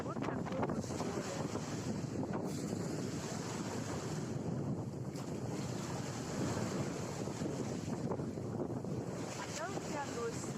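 Stormy sea near Feodosia heard from a second-floor balcony, with a steady roar of surf and strong wind buffeting the microphone throughout.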